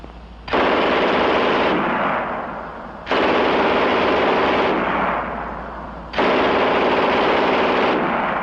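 Three sustained bursts from an MG 42 machine gun, its extremely fast rate of fire blurring into a loud, tearing roar, with short gaps between.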